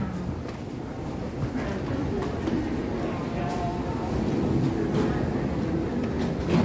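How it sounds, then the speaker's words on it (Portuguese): Steady low rumble of a metro train fills an underground station, with rail noise and faint crowd murmur holding at an even level throughout. "Chegamos no ponto de metrô."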